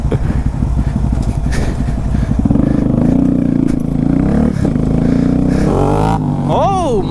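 A Grom motorcycle's engine revs loudly and close during a street wheelie, its pitch climbing and surging, with people talking over it.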